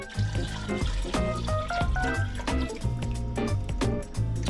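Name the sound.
water poured into a large saucepan with ham hock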